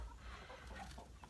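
Chickens cluck softly in a noisy outdoor setting, low and somewhat muffled, with a steady background rumble.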